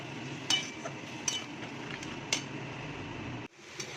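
Spice masala with cumin powder sautés in a pan for an egg omelette curry: a steady sizzling hiss runs throughout, broken by a few light clinks of the spoon against the pan.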